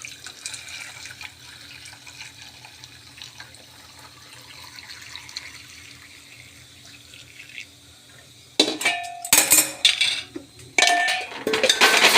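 A long quiet stretch, then hot jaggery water for Kathiawadi raab being poured through a strainer with clanking metal utensils in short bursts, close by.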